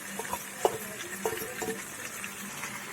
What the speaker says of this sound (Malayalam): നല്ലതുപോലെ എല്ലാ ഭാഗവും ചേർത്ത് ഇളക്കി കൊടുക്കാം